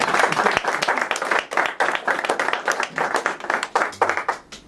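A seated audience at a book presentation claps steadily and densely for several seconds, close and lively, the applause fading slightly toward the end.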